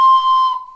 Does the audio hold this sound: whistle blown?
yes